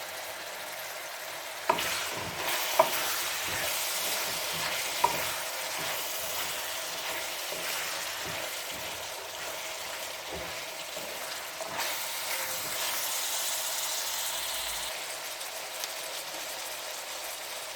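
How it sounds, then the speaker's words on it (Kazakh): Carrots fry in oil in a pan for plov, making a steady, crackling sizzle throughout, with occasional sharp clinks of a utensil stirring against the pan. "Сәбізімізді қуырдық, 10 минут көлемінде"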